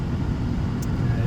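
A Dodge RAM 2500 Heavy Duty pickup with a V8 engine drives slowly through a residential area, heard from inside the cab as a steady low rumble and road noise with no distinct revving.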